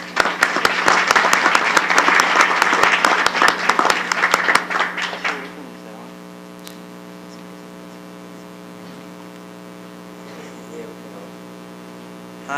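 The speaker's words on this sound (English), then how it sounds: "a round of applause" An audience at a school board meeting claps in loud, dense applause for about five seconds, then it stops abruptly and a steady mains hum remains.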